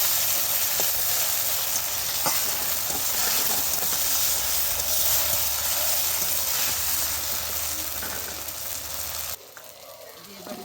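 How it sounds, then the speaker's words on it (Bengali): Ground cumin, ginger and green chili paste fries in hot oil with a broad, steady sizzling hiss and occasional light stirring, fading down sharply in the last second. "মশলাটাকে দিয়ে একটু কষিয়ে নেব।"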